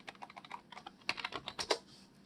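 Fast typing on a computer keyboard while entering text in a PowerPoint 2016 exam exercise, a close run of crisp key clicks in uneven bursts with a few louder strokes, no talk.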